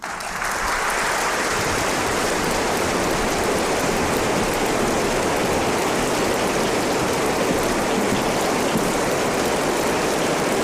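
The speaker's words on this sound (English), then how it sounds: "this is the extended applause" Dense, continuous applause from a large crowd, loud and unbroken throughout, swelling in at the start and holding steady with no voices.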